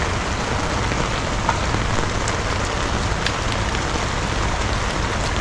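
Steady heavy rain pours down continuously, a dense even hiss of drops on surfaces with no breaks, close and fairly loud throughout.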